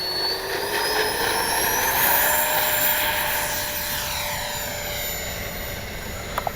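A Freewing JL-10/L-15 RC jet with twin 64 mm electric ducted fans spools up and takes off, a steady loud whine rising in pitch and holding high throughout.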